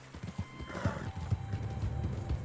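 A horse in the video game Red Dead Redemption 2 whinnies and its hooves clip-clop at a steady pace, mid-distance over low ambient game noise.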